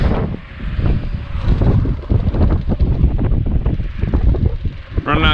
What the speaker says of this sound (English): Running on two cylinders finally.